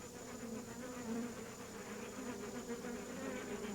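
Honeybees buzz in a steady, continuous drone that holds close and even throughout, with no voices or other sounds over it.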